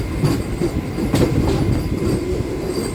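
A MEMU local train runs on rails between Bhimavaram and Machilipatnam, a steady rumbling roll with rhythmic wheel clatter over rail joints, heard close from inside the carriage with no talk.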